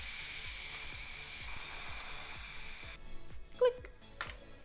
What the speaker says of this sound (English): We're gonna let that vent to release all that pressure before we take the lid off.